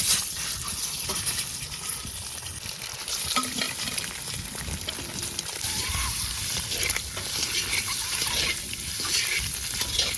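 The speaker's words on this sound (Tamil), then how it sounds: "பெப்பர், மஞ்சத்தூள், மிளகாத்தூள் போட்டு ஃப்ரை பண்ணி எடுத்துக்கலாம்." Pepper, turmeric and chilli powder sizzle and spatter steadily in hot oil for a village-style egg curry, with continuous stirring scrapes throughout.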